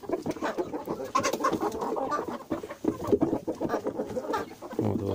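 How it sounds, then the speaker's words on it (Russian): A broody hen clucks and grumbles close by in low, rapid, throaty bursts, with other farm birds faintly in the background and no speech. "Это квочка."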